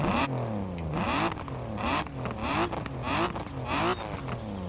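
A Morgan Three Wheeler engine in Forza Horizon 4 revs repeatedly in sharp rising bursts, each pitch sweep climbing then dropping, loud and close with no talking.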